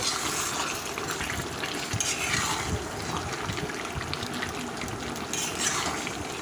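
Mutton curry with potatoes is stirred in a pot once oil has released, a continuous wet, bubbly swishing close by at moderate volume with no voices.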